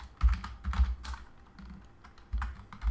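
Fingers tap on a computer keyboard in quick irregular bursts of soft clicks, close and fairly quiet, with no voices.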